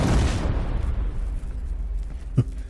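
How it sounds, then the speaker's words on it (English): Explosions in the video game Terminator Resistance: a loud booming blast at the start that rumbles away, followed by a smaller sharp burst near the end. "Love those explosions."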